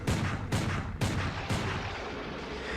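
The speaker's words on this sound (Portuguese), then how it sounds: "De repente, eu ouço um barulho muito alto de tiro." Four loud, sharp gunshot blasts spaced about half a second apart, each with a quick boom and short decay, followed by a lingering rumble, no voices.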